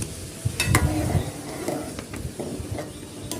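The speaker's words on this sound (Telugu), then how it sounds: "సో చూసారా కూర బబుల్స్ వస్తున్నాయి" Eggplant curry (guthi vankaya pulusu) simmering in a pot, with a soft bubbling hiss, a few clinks of a utensil against the pan, and low bumps close by.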